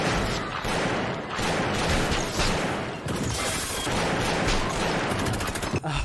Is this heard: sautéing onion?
no